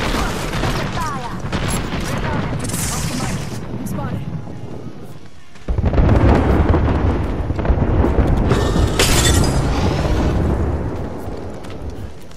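Artillery barrage in a multiplayer shooter: heavy booming explosions and rumbling blasts roll through the whole stretch, swelling sharply louder midway, with scattered gunfire and radio-style voice lines mixed in.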